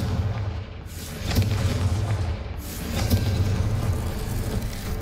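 A Confringo blast spell in the Hogwarts Legacy video game, heard as deep booming rumbles in two swelling waves with a low roar underneath, loud and close with no talking.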